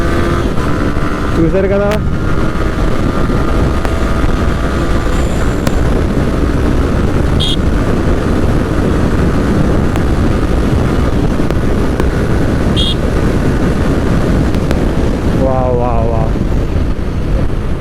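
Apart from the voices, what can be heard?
Yamaha R15 V3 sport bike riding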